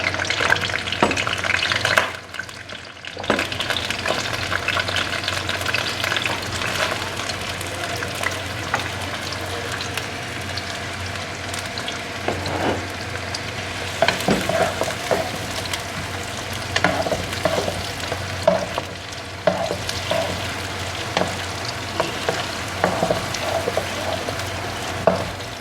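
Chopped onions sizzle and fry in hot oil in a pan, with a continuous crackling hiss broken by repeated scraping stirs of a spoon, close and steady throughout.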